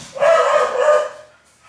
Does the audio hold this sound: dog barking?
yes